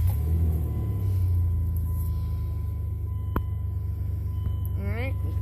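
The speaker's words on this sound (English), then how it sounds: "You start the car up." A 2002 Dodge Dakota pickup engine runs at a steady idle, a continuous low rumble close by. There is a brief click partway through and a short rising whine near the end.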